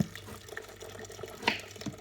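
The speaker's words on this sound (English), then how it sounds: "I'm going to be putting the boiling water in again" Boiling water poured from a kettle into a pan for cottage pie vegetables, a soft continuous splashing stream with a brief brighter burst partway through, heard close in a home kitchen.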